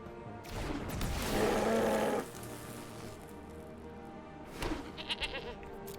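Goat token bleating in the card game MTG Arena: a drawn-out, wavering bleat lasting about two seconds, followed by a shorter bleat a few seconds later, moderately loud over quiet game background.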